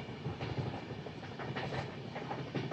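The Machilipatnam–Dharmavaram Express 17215 runs along the track, a steady loud rumble with rhythmic wheel clatter heard from inside a carriage, no voices.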